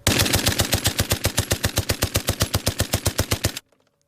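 A World War I machine gun fires one long, rapid sustained burst of evenly spaced, sharp shots, loud and close, stopping abruptly before a brief quiet tail.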